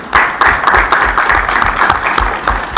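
Audience at a Congolese boxing anniversary announcement applauding the president, close, loud clapping in a brisk, somewhat rhythmic pattern with distinct individual claps.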